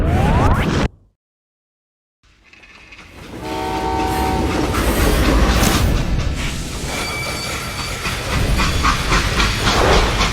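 A steam-era train in the Western shooter game Call of Juarez: Gunslinger cuts out briefly, then rumbles back up with a loud hiss, sustained horn tones and rhythmic wheel clatter that stays close and heavy.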